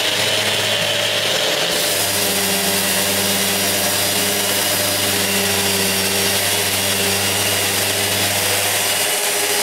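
Parquet floor sanding machine running with a central dust extraction system connected, a loud steady broadband whir with a low motor hum that shifts slightly as it starts up, continuous with no speech.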